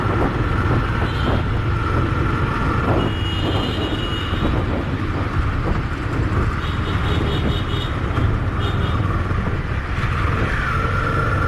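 A Husqvarna Svartpilen 250 motorcycle engine drones steadily at higher revs while riding, with a loud, continuous rumble and wind roar throughout and occasional faint high tones.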